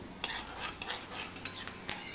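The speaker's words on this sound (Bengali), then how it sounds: "এবারে একটু নাড়াচাড়া করে নিতে হবে" Bay leaves and panch phoron frying in oil in a wok while being stirred, with a soft sizzle broken by several sharp scraping clinks of a spatula against the pan.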